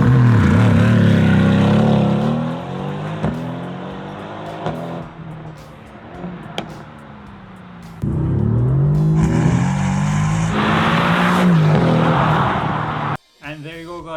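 A Mercedes-AMG GT R Pro engine and exhaust rising and falling through several pulls, the throaty V8 note sweeping up and down loudly, with a sharp change near the end.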